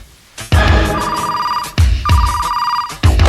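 A top secret gadget phone rings with a bright electronic ringtone, three loud tonal bursts in steady rhythm, close up with no talking.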